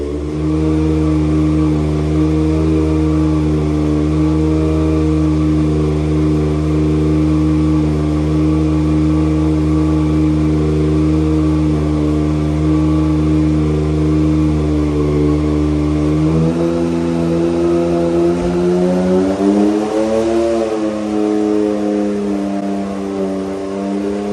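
A turbocharged Can-Am X3 on a dyno, stock stroke with a GT22 turbo at around 35 psi boost on E85, ported head and oversized valves, drones loud and sustained, then its pitch shifts and wavers near the end.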